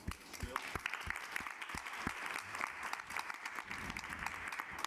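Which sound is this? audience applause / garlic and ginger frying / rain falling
audience applause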